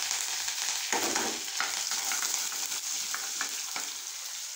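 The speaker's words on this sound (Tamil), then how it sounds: "எண்ணெயிலே வதங்கட்டும்" Oil sizzles and crackles steadily in a pan, with a few louder bursts as something is stirred or added, frying mustard seeds and chopped garlic.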